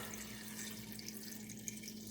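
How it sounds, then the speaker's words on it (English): Water poured from a measuring cup over cut kumquats for marmalade, a very faint, continuous trickling splash with a steady low hum beneath, close by and without talk. "Now I have 3 cups of water here, and I'm gonna pour"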